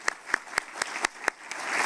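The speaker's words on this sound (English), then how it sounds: "Let's give another round of applause for Governor DeSantis." Quiet applause for a governor at a press event in Tampa, Florida: a handful of sharp, evenly timed claps sound up close, then a faint crowd murmur swells underneath.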